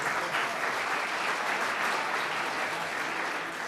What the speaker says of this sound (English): Let's give our game sponsors a round of applause today